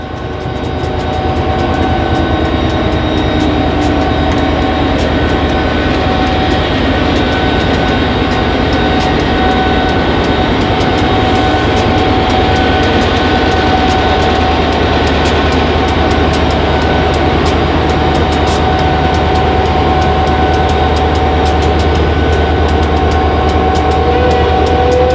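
A CSX train rolls through a street in La Grange, Kentucky, its loud, steady rumble and engine drone sustained throughout with no pause.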